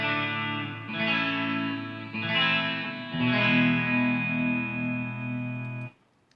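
Distorted chords on a 2011 Fender American Stratocaster electric guitar ring out one after another, fuzzy and sustained with a slight shimmer, then cut off abruptly, no voices.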